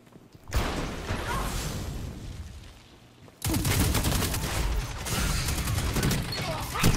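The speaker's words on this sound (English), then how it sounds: "Oh, you got that nice machine gun." Machine gun fire in the Destiny 2 video game on Xbox One: sharp bursts at first, then a dense, loud, sustained stretch of rapid shooting and clatter after a brief lull.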